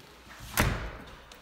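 A Siegenia multi-point lock on a pivot door engages its strikes and deadbolt with a single solid thump, a brief close clunk over quiet room tone.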